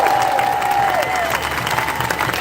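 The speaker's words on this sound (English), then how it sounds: "Give them all a big round of applause." Sustained crowd applause and cheering at an outdoor protest rally in New Orleans, fairly loud, with a whistle-like tone gliding down early on.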